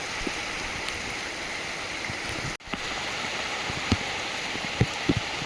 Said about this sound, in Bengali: বৃষ্টি হয়ে যায় রান্নাঘরে জল পড়ছে